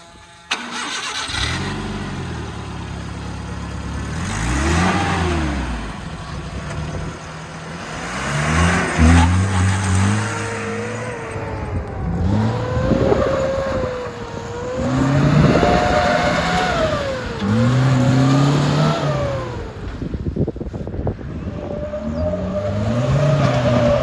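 A 1973 Mahindra Jeep 4x2 with a petrol engine starts, then revs repeatedly and drives off, its mid-pitched engine rising and falling in several loud surges over about twenty seconds, with no talking.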